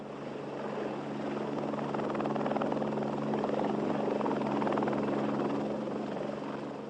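A Lockheed AH-56 Cheyenne attack helicopter flies past, its rotor and engine making a steady, loud, dense drone with a faint rhythmic chop. The drone swells slightly midway and carries on unbroken, with no voices.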